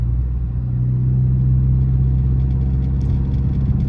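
A Chrysler 300C with a Hemi V8 rumbles steadily while driving, a loud, deep, continuous engine drone with a low hum heard from inside the car. No voices.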